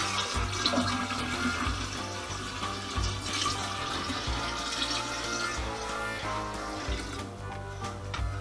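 Cooled sweetened tea, brewed from ten tea bags with two cups of dissolved sugar, poured steadily into a jar for kombucha, giving a continuous splashing, gurgling flow of liquid close by, with no talking.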